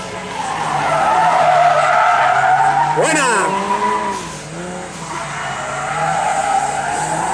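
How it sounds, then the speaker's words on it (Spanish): A rear-wheel-drive Ford Cosworth rally car skids through a curve: loud engine roar with a sharp tire squeal in the middle as the car slides, and a brief excited shout from a bystander. "Ahí veis cómo se nota la tracción trasera, cómo coloca el coche en la curva."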